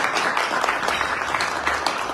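Brief burst of lively clapping from a studio audience on a cultural magazine show, dense and continuous throughout with no talk over it.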